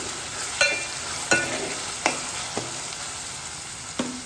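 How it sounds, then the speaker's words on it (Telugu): Chopped onion pieces sauté in a pan with a soft, steady sizzle, broken by about six sharp scraping stirs at roughly regular intervals, with no talking. "ఉల్లిగడ్డ ముక్కలు అయితే మగ్గుతున్నాయండి"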